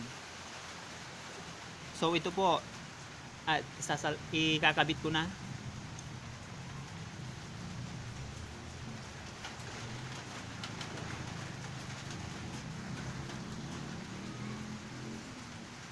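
Steady rain falling outside a house, picked up by a smartphone microphone as an even, hissing wash that runs the whole time, with someone speaking briefly near the start.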